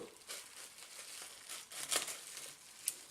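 Packaging crinkles and crumples during an unboxing, quiet rustling handling noises in irregular bursts with a couple of sharper crackles.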